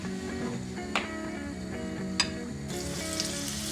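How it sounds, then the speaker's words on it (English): Steady crackling sizzle of shrimp fritters frying in hot oil, continuous and close, with a couple of brief sharp clicks, no voices. "it's just a matter of frying the rest of my fritters"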